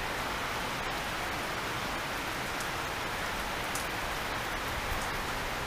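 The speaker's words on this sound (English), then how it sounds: "So we're having another one of those glorious afternoon showers." Heavy rain pours down in a dense, constant hiss, loud and unbroken, with no voices.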